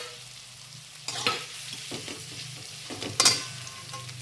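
Potatoes sautéing in a pan for sabudana khichdi, a low steady sizzle with two sharper bursts of stirring and spattering, close and fairly quiet, with no talking.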